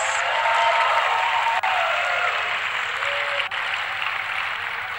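An audience at a Miss USA 2019 preliminary swimsuit competition in Reno Tahoe gives pageant contestants a big, sustained round of applause, dense clapping filling the hall and tapering slightly toward the end.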